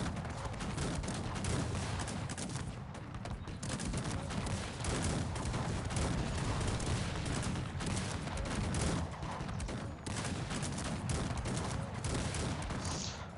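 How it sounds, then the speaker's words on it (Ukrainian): Dense, continuous rumbling gunfire and booming cannon volleys in the video game Cossacks 3 overlap into a steady roar of battle noise, with no clear pauses. "Гарматами залп."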